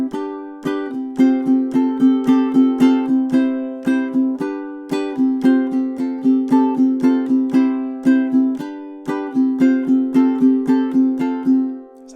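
A ukulele strums measures 17 and 18 of a song in a steady, bright rhythm, repeating the two-bar phrase three times with crisp strokes and ringing chords, played alone and close.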